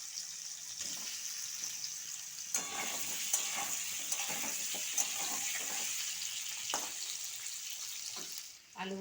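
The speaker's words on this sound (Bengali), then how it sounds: "আমি এবার ওই তেলেই আলুগুলো ভেজে নেব।" Potatoes fry in oil already used for cauliflower, giving a steady close sizzle with occasional stirring clinks and scrapes.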